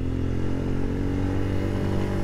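Royal Enfield Scram 411 motorcycle engine and exhaust running at a steady idle, a loud continuous low thrumming rumble with even pulsing, close by and alone without any voices.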